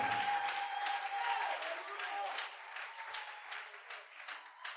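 A church congregation applauds and acclaims during a sermon, with steady, fairly loud clapping that gradually thins and a voice calling out over it.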